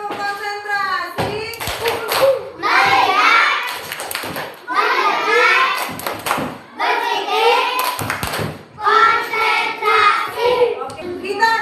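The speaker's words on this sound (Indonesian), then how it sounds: "tepuk konsentrasi" Children in a classroom perform a concentration clapping chant, sharp claps in rhythmic groups alternating with chanting voices, led by a teacher.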